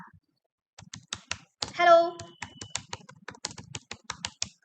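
Fingers type on a computer keyboard in quick, light clicking bursts, close and fairly quiet, with a short spoken phrase breaking in midway.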